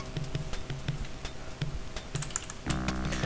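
Keys clatter steadily on a computer keyboard while playing the text-parser game Space Quest III, an irregular run of close taps followed by a louder, busier burst near the end.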